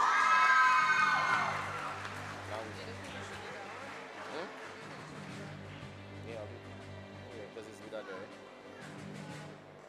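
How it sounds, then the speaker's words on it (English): A secondary school graduation audience cheers and applauds for the awardees, a loud crowd burst with whoops and children's shouts at the start, easing into a steadier background of chatter and scattered clapping. "Let's give the awardees a round of applause again."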